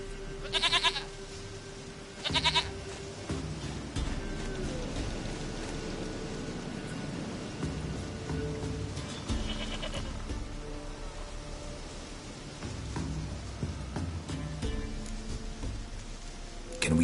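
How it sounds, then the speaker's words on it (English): A goat bleats in The Witcher 3, two sharp bleats early on and another fainter one midway, over a continuous bed of rain and ambient game sound with no speech. "Goat of mine, dearest, sweetest goat."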